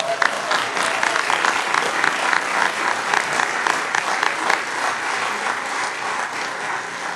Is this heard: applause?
yes